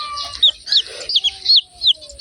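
Chickens cluck and chirp in quick, close bursts, several short calls in a row with brief gaps and a faint background tone.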